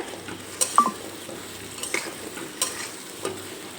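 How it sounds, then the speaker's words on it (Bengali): Fish egg fritters tossed with spices in a pan give a soft sizzle under intermittent spatula scrapes and light clinks, quiet and close, no talking. "মাছের ডিমের বড়া দিয়ে একটু নেড়েচেড়ে নেব, সব কিছুর সঙ্গে ভালোভাবে মিশিয়ে নেব।"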